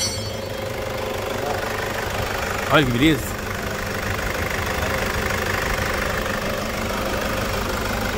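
A Toyota SW engine with a loud running noise and a turbo fault idles with a steady, loud mechanical drone heard up close, and a voice speaks briefly over it.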